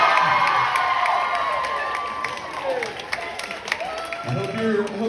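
Comedy club audience at The Comedy Zone cheering and whooping, a loud crowd roar that stays dense and steady, then thins slightly toward the end, with scattered shouts rising over it.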